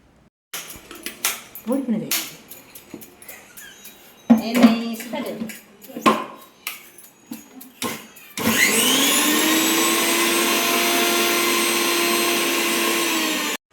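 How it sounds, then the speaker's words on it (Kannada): A kitchen mixer grinder blends ginger, coriander and cumin for prawn biryani, starting after handling clatter with a steady loud whirring roar that runs continuously to the end; a voice talks over the earlier part. "ಶುಂಠಿ ಕೊತ್ತಂಬರಿ ಜೀರಿಗೆ ಬುಕ್ಕ ಕೊತ್ತಂಬರಿ ಪೊಡಿ ಇತ್ತನಲ್ಲ ಆಪುಂಡು ನೇನು ನಮ್ಮ ನೈಸಾದ ಗ್ರೈಂಡ್ ಮಲ್ಪೊಡು"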